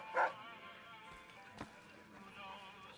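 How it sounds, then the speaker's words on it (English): A single short dog bark or yip in the Fallout: New Vegas video game, heard briefly near the start against a faint ambient game background, with no voices over it. "It's a dog."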